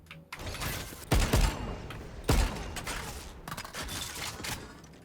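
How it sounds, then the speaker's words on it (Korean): Bursts of Jinx Vandal gunfire with the Arcane skin in the video game Valorant: rapid automatic shots in a few strings with sharper peaks, close and loud, with no talking over them. "이제 쏘는 느낌이 가장 중요한데"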